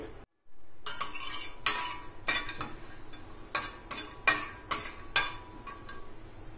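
Dried grated coconut toasts in a pan while a metal spoon scrapes and clinks against it in quick bursts, a soft dry rustle between the close, bright stirring strokes; no voices.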